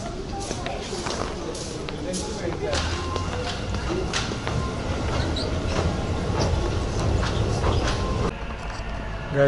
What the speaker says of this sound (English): The train will be coming from this track.